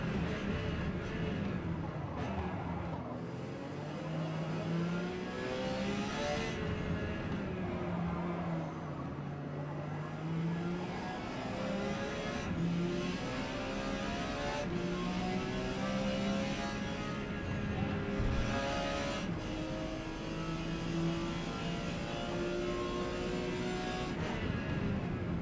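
Porsche 956 prototype race cars in Forza Motorsport's P class at Grand Oak Raceway, a steady engine drone that rises and falls in pitch through gear changes, with other cars passing and bumping nearby throughout.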